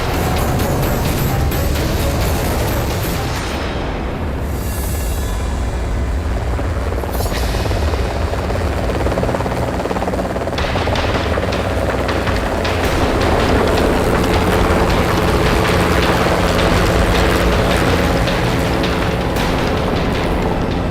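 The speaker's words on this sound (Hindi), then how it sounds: "टाइमिंग, हेलीकॉप्टर भी आ गया।" A helicopter's rotor roars loudly and steadily, its thumping drone filling the air as it comes in close.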